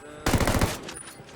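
A short burst of automatic rifle fire in Ghost Recon Wildlands, several quick loud shots lasting about half a second and then fading, with no talking.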